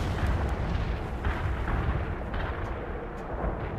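Dense artillery fire in World in Conflict's Soviet Assault campaign, a continuous rolling rumble of distant shelling with faint repeated impacts and no let-up.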